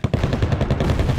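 Rapid automatic gunfire from the video game Wargame: Red Dragon, a dense, loud, continuous stream of shots rattling without pause.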